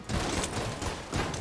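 Mine cutter gun in Enter the Gungeon fires a rapid burst of loud, dense shots with a steady rattling texture, filling the moment close and continuous.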